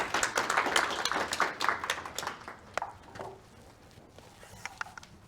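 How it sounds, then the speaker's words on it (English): Audience applause for a performer at a showcase, a burst of quick, crisp claps that rises loudly and then thins out to a few scattered hand claps trailing off into near silence. "So let's give a round of applause for Professor Ken"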